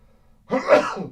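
A single sharp sneeze bursts out after a quiet moment, close and fairly loud, with a short breathy tail.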